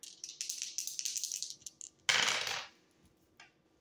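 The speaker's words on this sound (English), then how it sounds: "rolling the dice to see what I need to shuffle the deck to" Dice rolled for a tarot reading, a run of light rattling clicks followed by a sharper clattering burst as they land, then quiet.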